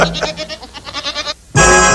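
Cartoon goats bleat in a quick, rising chorus of short wavering calls, then one loud sustained bleat bursts in after a brief pause, close and bright over a 1967 animated scene about money and barter.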